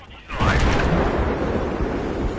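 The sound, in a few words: explosion of the player's vehicle in the video game Battlefield 3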